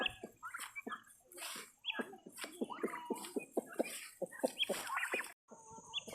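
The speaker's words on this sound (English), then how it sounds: "There's a rooster." A rooster and chickens cluck and squawk nearby on a farm with turkeys and guinea fowl, a busy run of overlapping short calls at moderate volume with no talking.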